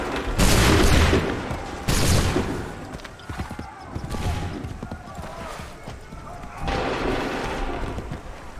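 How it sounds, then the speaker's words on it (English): Musket volley gunfire in Assassin's Creed 3, with loud bursts of massed shots and booming fire at intervals, mixed with battle noise and a voice shouting commands. "Open fire. Prepare yourselves. Shoot!"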